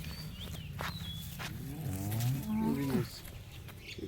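A Holstein Friesian cow moos loudly and close by, one long drawn-out low call rising and falling over a few seconds, with faint shuffling and farm ambience around it.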